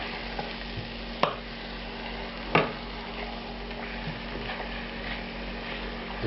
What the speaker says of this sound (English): drop that seasoned chicken breast into this. And I'm going to increase the heat now.